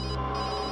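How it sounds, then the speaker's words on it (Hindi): A mobile phone rings inside a crime lab, its steady electronic ringtone filling the short moment at a constant level with no voices over it. "तो लैब में बज रही है, मतलब तारिका का फोन यही कहीं है लैब में।"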